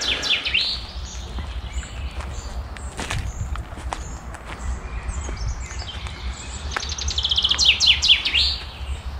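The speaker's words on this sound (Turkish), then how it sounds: "İşte kuşlar." Birds chirp and trill repeatedly outdoors in nature at Rumeli Feneri, with bursts of song near the start and end over soft footsteps and low rumbling background.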